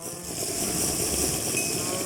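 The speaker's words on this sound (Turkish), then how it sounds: "Başkalarının ineklerini vurun. Vurun ineklere." Cattle mooing inside a Craftrise Minecraft minigame, a steady layer of blocky game cow calls over continuous background game noise, moderately loud with no talking.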